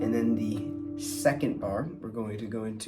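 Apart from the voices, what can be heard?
No distinct noise like a dog, phone or traffic.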